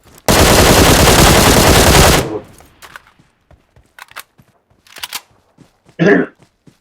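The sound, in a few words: gunfire from a video game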